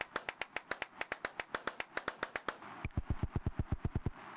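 In a horror video game, hands clap inside a church in a steady, even rhythm, about five claps a second, with a brief break partway through before the same pattern continues.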